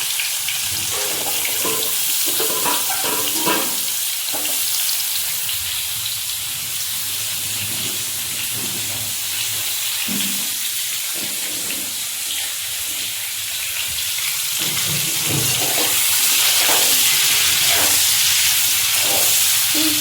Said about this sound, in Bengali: ছোট কড়াইয়ের মধ্যে ভেজে নিই কাঁকরোলটা